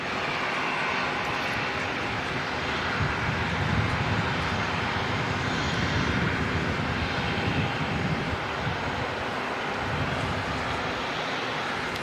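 Air New Zealand flight NZ 440 arriving from Wellington at Auckland Airport, its engines giving a steady broad roar that holds loud and close for the whole stretch, with no talk over it.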